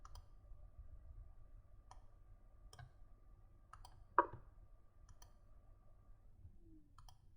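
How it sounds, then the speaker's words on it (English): A computer mouse clicks several times in a quiet room, faint sparse ticks spaced a second or so apart with one sharper click, no voices. "click on Get Data, click on From File and From Folder"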